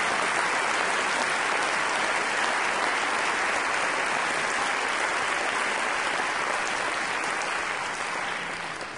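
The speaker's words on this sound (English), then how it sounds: "So, I want to give a round of applause for that." A large audience claps at a high school spring concert, a thick, even wall of applause that holds steady and then begins to thin and fade near the end.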